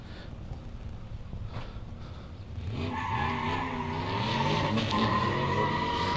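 A drift car at Meremere Drift Park skids through a corner section, tires squealing and engine revving loudly from about the three-second mark, preceded by quieter engine noise from farther off.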